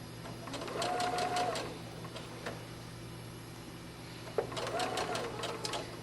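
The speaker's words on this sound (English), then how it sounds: "I'm going to stop and go in reverse and go forward again." A sewing machine stitches a doll dress, running in a short burst, pausing, then running again with rapid mechanical chatter and a whirring motor, close up, with a sharp click between runs and quiet room hum throughout.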